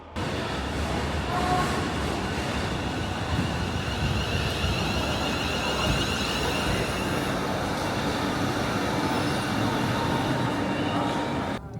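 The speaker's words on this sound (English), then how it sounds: "That's right, a pacer train." A Pacer train runs continuously with a steady rumble, joined by rushing wind noise the whole way through, travelling towards Winsford.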